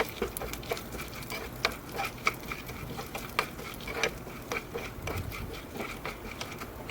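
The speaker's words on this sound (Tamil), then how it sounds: "அதுக்கப்புறம் காஞ்ச மிளகா ஆட் பண்ணி நல்லா கிண்டி விட்டுக்கலாம்." Chana dal and dried red chillies frying and being stirred in a pan, with a steady low sizzle under repeated scraping taps of a spoon against the metal, close and fairly quiet.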